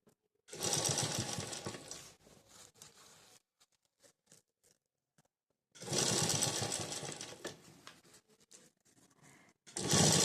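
A sewing machine stitching a straight border onto the round back neck of a blouse runs in two loud close bursts of rapid needle chatter, separated by quiet pauses with faint handling clicks, and a third burst starts at the end.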